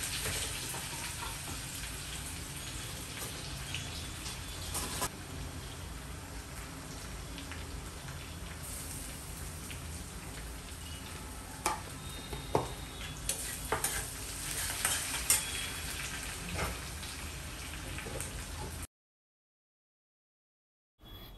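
Ragda cooks in a pan with tamarind, jaggery and red chili, giving a long, even sizzle with occasional stirring knocks. It stays close and unbroken, without talk, until a short silence near the end.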